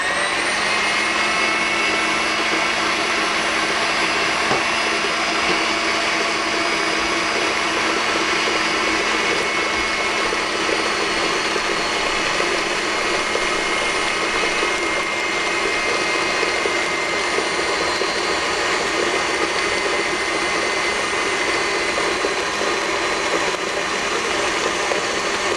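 An electric mixer beats a passion fruit ice cream mix at home, a steady continuous whir holding at one level throughout with no pauses.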